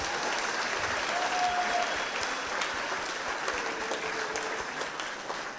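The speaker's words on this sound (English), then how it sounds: "Let's give all of our state officer candidates a round of applause" Audience applause at a 4-H opening ceremony in Arkansas, a steady wash of many hands clapping that holds throughout and gently tapers, moderately distant, with a couple of faint tonal whistles or squeaks over it.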